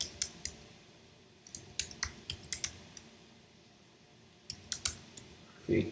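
Someone types on a computer keyboard while entering a progress note, producing sharp, close clicks in irregular bursts with short pauses between them.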